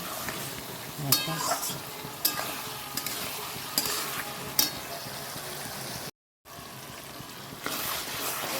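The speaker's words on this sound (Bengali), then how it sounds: "ভালো করে একটু নাড়াচাড়া দিতে হবে" Spiced paneer with garlic and ginger paste, chilli powder and turmeric being stirred in a frying pan: steady sizzling with repeated scraping strokes of a spoon, close and fairly loud, cut by a brief silent gap.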